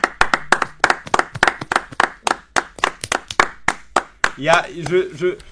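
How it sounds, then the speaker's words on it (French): A single person claps hands in a quick, steady run of sharp close claps at a game where others try to make them laugh, then a voice speaks briefly at the end. "Bah écoute, moi je t'applaudis"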